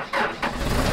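The engine of a piece of heavy boom equipment cranks and catches with a key start, two quick turnover surges giving way to a rough, steady running rumble, close and fairly loud.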